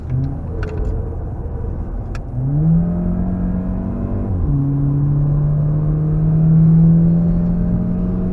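A car engine on the Nürburgring Nordschleife, heard close from onboard, drops in pitch under braking with downshifts, then pulls a steady rising drone as it accelerates again, loud and continuous with no voices.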